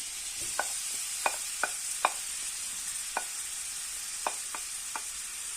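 Carrots added to garlic sautéing in a pan, a faint background sizzle punctuated by about ten sharp, evenly spaced utensil taps and clicks.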